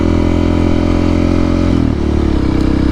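A Honda CRF300L motorcycle fitted with a loud aftermarket exhaust revs up close, its deep throaty drone holding steady and then dipping briefly before settling back, loud and alone.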